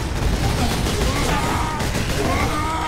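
Grenade blast and sustained gunfire in the video game Warhammer 40K: Space Marine, a dense, loud, continuous barrage of shots and booms filling the whole stretch with no pause, while a player speaks over it.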